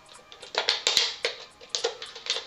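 Sturdy scissors snip around a sheet of aluminum cut from a can, making repeated crisp metallic crunches in quick uneven bursts, close up and fairly quiet with no talking.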